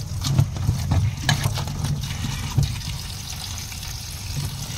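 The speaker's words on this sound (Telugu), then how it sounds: "వాటర్ తీసుకొని క్లీన్ చేసుకుందాం ఫస్ట్ వీటిని." Running water rinses freshly harvested garden tomatoes for a raw pickle, a steady splashing wash with a low rumbling undertone and a few louder sloshes, with no talking.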